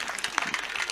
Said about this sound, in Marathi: टाळी वाजवा एकदा पुरुष मंडळ मावशासाठी.